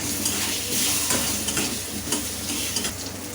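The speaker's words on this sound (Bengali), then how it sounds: "আর এবার আলুগুলোকে ভাজতে দিচ্ছি" Potato pieces with turmeric and salt fry in a little oil, a steady loud sizzle broken by stirring scrapes and clinks of a utensil in the pan, with no talking.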